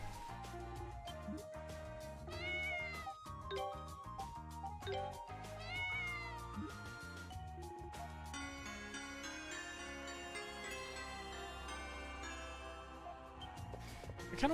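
A cat meows repeatedly inside the video game Ys: Memories of Celceta, short rising cries set against steady game music with chimes, no speech.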